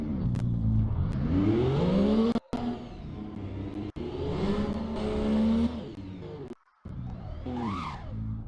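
A car engine revving hard in the Roblox game Driving Empire, fitted with a Titan engine and supercharger, rising and falling in pitch in long loud sweeps with brief cuts between bursts, heard alone.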